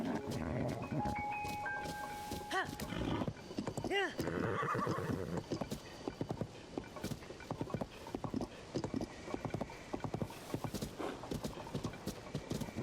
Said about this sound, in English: the horse is especially fighting me now